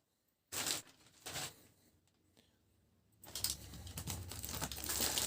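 Plastic packaging bags from an AliExpress parcel rustle and crinkle close by, with two short crackling bursts, a quiet pause, then continuous crumpling and handling.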